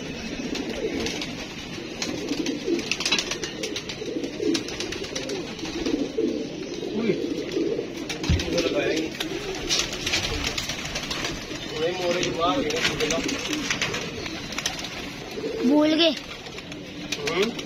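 Pigeons coo repeatedly close by, a soft rolling call recurring throughout, with people talking over and around the birds.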